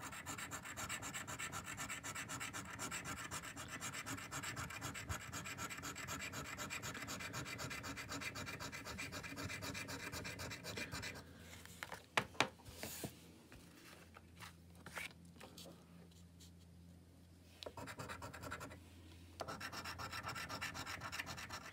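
Coins scratching the latex panels of £2 Ruby 7s Doubler National Lottery scratchcards, a steady close rubbing scrape lasting about eleven seconds, then broken into short bursts of scratching with quieter gaps.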